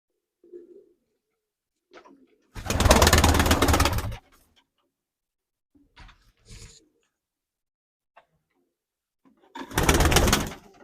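Two bursts of pigeon cooing, close and fairly loud, separated by quiet stretches with a few faint soft sounds.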